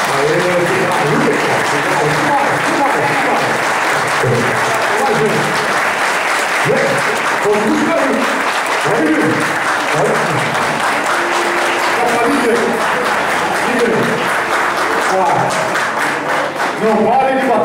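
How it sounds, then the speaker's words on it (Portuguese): Sustained applause from a crowd at an end-of-year company party, dense and loud throughout, with voices talking and calling out over the clapping. "não parem de bater palmas"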